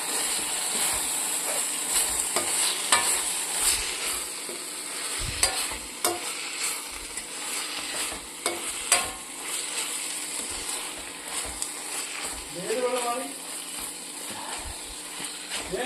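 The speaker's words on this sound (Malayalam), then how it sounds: "നമുക്കൊന്ന് ഇളക്കി കൊടുക്കാം." A colocasia leaf stir-fry is stirred in a pan, with soft scraping and stirring strokes over a continuous gentle sizzle and a few light clinks, and no talking.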